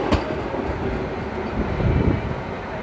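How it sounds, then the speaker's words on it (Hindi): An Indian Railways express train, the Ballarshah–Mumbai Nandigram Express with ICF coaches, runs past nearby with a steady loud rumble and rolling clatter. The noise swells slightly toward the end, and no one speaks. "तो यहाँ पे अराइवल हो रहा है हमारी बलारशाह मुंबई नंदीग्राम एक्सप्रेस का।"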